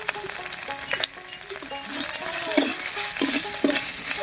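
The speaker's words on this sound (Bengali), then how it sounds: "মশলাগুলোকে একটু কষিয়ে নিয়েছি।" Ground spices with ginger-garlic paste, chili, cumin, coriander, salt and turmeric sizzle and fry with squash in a pan while a spatula stirs and scrapes through them, giving steady loud frying with intermittent clattering stirs.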